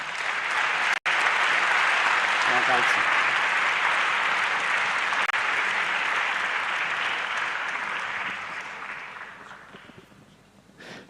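Sustained applause from the audience at the opening of a national youth assembly, a dense, even wash of clapping that holds strong for most of the stretch before tapering off near the end, with a brief spoken thank-you.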